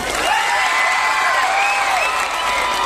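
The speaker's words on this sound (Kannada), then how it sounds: "ಜೋರಾಗಿ ಚಪ್ಪಾಳೆ ಹೊಡಿಬೇಕು" A festival audience at the Kampli Utsav's Gandugali Kumara Rama stage bursts into loud, sustained applause with crowd cheering mixed in, holding steady for about three seconds.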